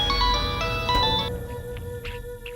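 An electronic phone ringtone plays an incoming call, a bright melodic tone pattern that cuts off after about a second, followed by fainter beeps.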